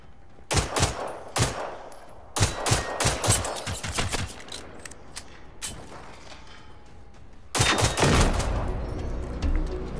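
Robots in the Generation Zero video game fire guns in loud, close bursts, with sharp rapid shots in clusters, a short lull, then another intense volley.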